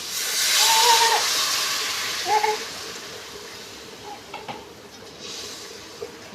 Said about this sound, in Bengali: এবার একটু জল দেবো, জল দিয়ে এটা ফুটিয়ে নেবো।